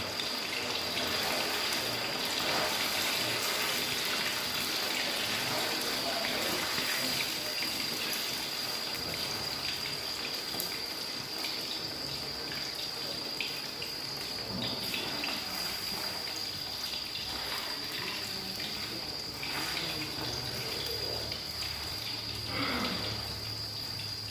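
Pempek Palembang fish cakes frying in hot oil, producing a steady, dense sizzle that runs close and loud without a break for the whole stretch.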